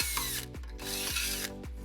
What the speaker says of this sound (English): then we'll drill our second hole